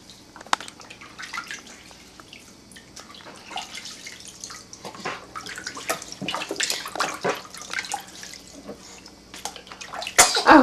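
A baby splashing in a bathtub with water sloshing and dripping, followed by a short sneeze near the end, close and fairly soft.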